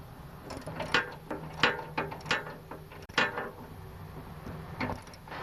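Ratchet socket wrench tightening a shear bolt nut on a Craftsman or Husqvarna snowblower auger, a series of close, irregular metallic clicks in short bursts with no talk.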